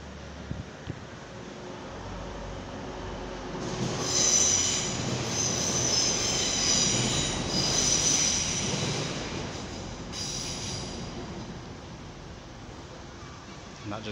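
A train rolls past near a canal in Manchester, its wheels squealing loudly with high metallic shrieks over a steady rumble of railcars, building and holding for several seconds before easing slightly.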